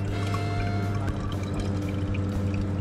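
Fresh milk pours steadily from a 24-hour farm vending machine in Switzerland into a one-litre container, a continuous, close liquid stream with a low hum underneath and no talking.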